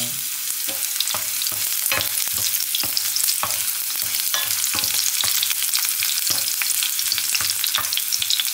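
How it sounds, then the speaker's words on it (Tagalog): Garlic fries in a pan with a dense, continuous sizzle and crackle, broken by frequent sharp pops and the scrape of stirring, close and alone. "Antayin natin mag-light brown yung ating garlic"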